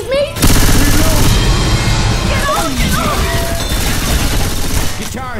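Dense, loud gunfire in Left 4 Dead 2, rattling almost continuously over a few seconds with crashing impacts, while players' voices cut in over the shooting.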